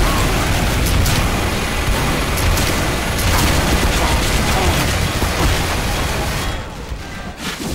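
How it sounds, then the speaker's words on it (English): Rocket jumping in Team Fortress 2 as a soldier fills the scene with dense, continuous game explosions and blasts, loud and close, booming almost without pause before easing off near the end. "I hate rocket jumping."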